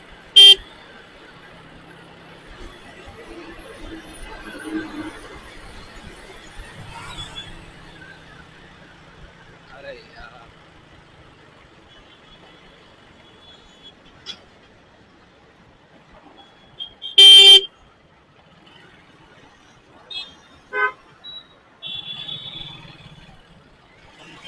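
Road traffic queued at a junction near a bridge on the Kalyan–Bhiwandi bypass, a quiet engine hum broken by a few loud, brief horn blasts, one long toot, then several short honks.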